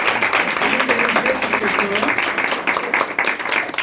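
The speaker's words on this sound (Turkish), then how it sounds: "Alkışlarla geliyorsunuz" Audience applause at a youth culture workshop's year-end theatre play as a performer is brought on, a steady dense patter of clapping with voices mixed in throughout.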